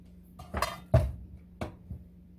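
A few light clinks of a metal spoon against a pot while cooking wine is spooned in for gamjatang, four or five small taps spaced irregularly, close by with no talking.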